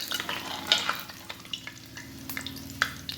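Brussels sprouts sizzle and crackle in a frying pan, with steady frying hiss and a few sharp pops and stirring scrapes close by.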